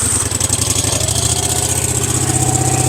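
A small engine catches and runs right away at a loud, close, steady idle with a rapid regular pulsing beat and no voices.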